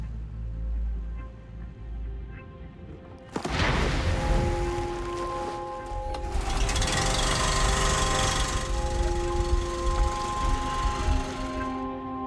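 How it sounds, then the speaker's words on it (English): A heavy 100-pound drill boring out coral samples on a reef, a loud steady mechanical whine and grind that kicks in sharply after a quieter stretch and runs continuously to the end. "We're about to use this 100-pound drill to collect coral samples"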